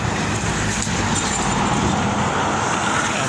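Steady, loud traffic roar from cars, with a truck or bus mixed in, passing along a highway toward Irapuato and Arandas beside a pedestrian bridge in Tonalá, Jalisco, Mexico; a continuous close wash of tire and engine noise with no talk.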